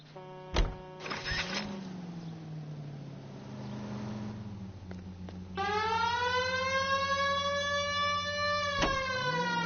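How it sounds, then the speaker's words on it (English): A wailing police siren in the video game L.A. Noire starts partway through and holds loud and steady, following engine hum and a couple of sharp knocks. "We have a siren."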